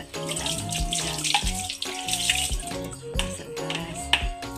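Water is scooped from a bucket with a dipper and poured for handwashing at a home with no tap, giving repeated close splashes and gushes in an uneven rhythm, with no talk.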